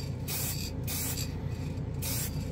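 A Tamiya matt clear spray can gives three short hissing bursts, faint and fairly close, with a quiet gap between each burst.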